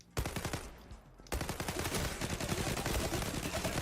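Rapid automatic gunfire from the online shooter Zula, dense bursts of fast shots rattling continuously after a brief lull, loud and close with no talking.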